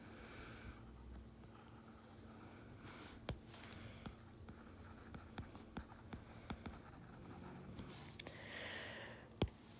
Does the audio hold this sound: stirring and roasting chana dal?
no